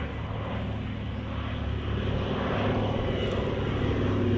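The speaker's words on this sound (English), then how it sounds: "A nice flyby now." A propeller aircraft makes a flyby at the Coventry Air Show, a steady droning engine roar that stays loud and slightly distant across the whole pass, with no one speaking.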